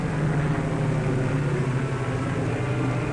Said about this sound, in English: One of the world's largest aircraft, carrying a tiny particle of atomic energy, speeded down the runway for science.